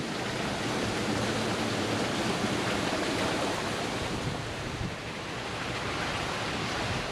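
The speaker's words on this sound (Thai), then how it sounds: "คุณดูเลยบรรยากาศของท้องทะเลที่หาดทับแขกตรงนี้นะครับ" Sea waves at Tub Kaek Beach in Krabi, with a steady wash of surf and wind noise rolling on without pause, fairly loud and with no voices.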